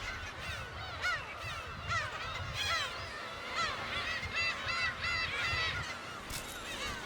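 A seagull chick calls near its nest on Dokdo island, letting out repeated honking, squawking cries in uneven bursts. The cries are moderately close and come over a soft, steady background hiss.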